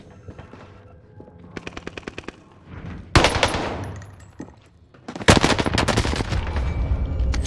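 Rapid automatic gunfire in Warzone on Rebirth Island, with a TEC-9 in play: bursts of close, loud shots start sparse and build into dense sustained volleys, with no talking.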